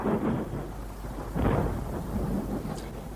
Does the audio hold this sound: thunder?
yes